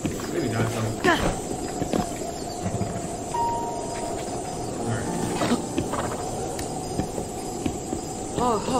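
Horse hooves clip-clop in The Legend of Zelda: Breath of the Wild, played on the Cemu Wii U emulator, in a quick rhythmic patter mixed with game sounds while someone talks over the gameplay.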